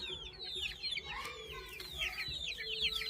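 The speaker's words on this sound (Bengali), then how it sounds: "এই ছোটো ছোটো কিছু মুরগির বাচ্চা আছে।" Small chicken chicks cheep in rapid, high-pitched chirps, several overlapping in a busy, continuous chatter close by, with a low background hum.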